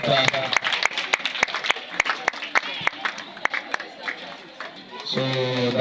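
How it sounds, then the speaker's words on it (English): Audience at an Ayawaso Central Municipal Assembly debate clapping to welcome an education director, a run of sharp irregular claps over a murmuring crowd and a voice, fading before louder talk at the end. "Please let's clap and welcome Director."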